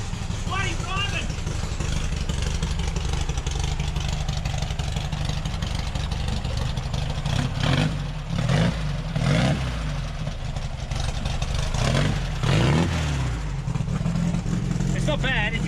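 The engine of a VW Baja, being driven for the first time in five years, runs continuously with a low rumble and a few revving swells as the vehicle pulls away, while voices talk over it now and then.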